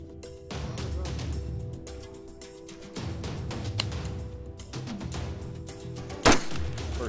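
A long-range rifle fires once at a distant rock chuck across lush green grass, a sharp loud crack standing out over steady outdoor background noise late in the stretch.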